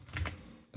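A few quick keystrokes on a computer keyboard, soft close clicks in a short burst followed by a brief pause and one more louder tap.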